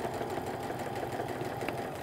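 A sewing machine runs steadily while stitching near a seam on an apron. Its close, even motor whir and fast needle chatter continue without a break.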